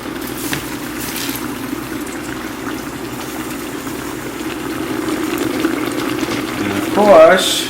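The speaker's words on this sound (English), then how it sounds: "It's to the boil" Broth in a clay pot bubbles at a low simmering boil, a steady soft gurgling close by, with a brief louder burst of bubbling or clatter near the end and faint background noise.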